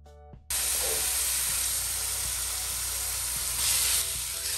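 A teaspoon of garlic hits hot oil in a pan and bursts into a loud, steady sizzle that holds for several seconds after a brief quiet start, with faint clinks underneath.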